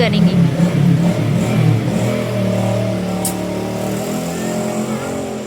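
Road traffic passing outside with engines revving and accelerating, a steady loud rumble throughout with a brief higher squeal midway, mixed with indoor voices talking.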